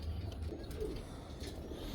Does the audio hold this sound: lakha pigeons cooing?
yes